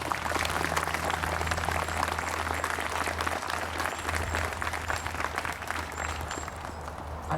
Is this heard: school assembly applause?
yes